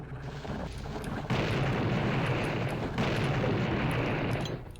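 Two heavy explosions from bundles of TNT in the horror shooter Bloodlines, each a loud broadband boom with a long rumbling decay, the blasts following each other about a second and a half apart.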